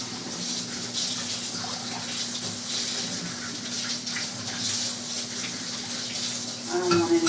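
A mixer paddle is rinsed under a running kitchen tap while making an almond cheesecake, giving a steady close gush of water that ends in a brief clatter.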